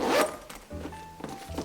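A zipper runs along a Louis Vuitton Speedy Bandouliere 25 monogram canvas bag, giving a few short, close scratchy pulls with soft handling thumps between them.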